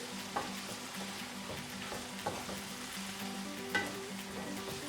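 Baby corn and paneer fried rice with cinnamon and spices being stirred in a pan, a steady sizzle and bubbling broken by three sharp scrapes of a spoon against the pan, close and without talk.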